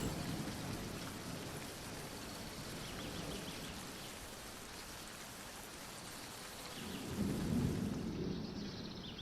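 A forest thunderstorm in the Iberian Peninsula, steady heavy rain hissing over everything while thunder rumbles low and swells louder toward the end.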